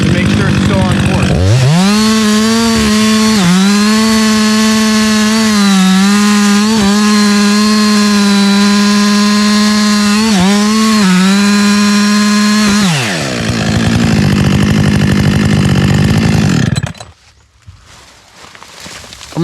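A chainsaw cuts a face cut into a dead cedar tree, loud and close, holding a steady high whine with brief dips as it bites, then winding down and idling before cutting off.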